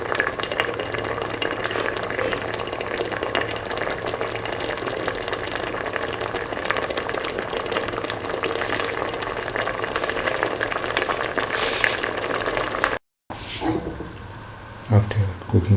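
Eggs simmer in a mint, potato and coconut milk mixture, giving a steady bubbling, hissing sizzle that runs continuously, with a voice talking over it and a brief cut near the end.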